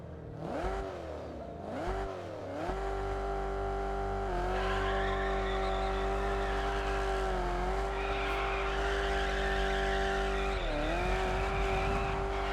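In the racing game TDU: Solar Crown, a car engine revs and holds a loud, steady drone, dipping between gear changes, while tire squeal and skidding cut in at several points throughout.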